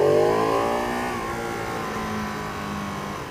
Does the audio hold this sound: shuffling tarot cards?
no